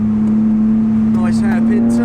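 A BMW Z4's engine hums with a loud, steady low drone from inside the car on a Sunday drive behind traffic, with a shift to a lower gear and someone talking over it.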